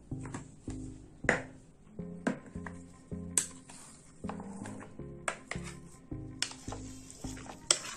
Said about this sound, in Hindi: इन सब चीजों को हम अच्छी तरह से मिक्स करेंगे।